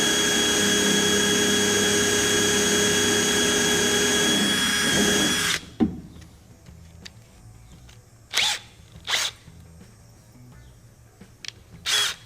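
A power drill with a 3/16 bit drives deck screws during a gooseneck trailer repair, whining loudly and steadily for several seconds before cutting off, followed by a few short separate bursts.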